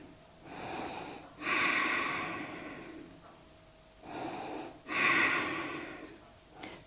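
Slow deep breathing in a yoga pose, two full cycles of airy inhales followed by longer, louder exhales, close and unhurried with quiet pauses between.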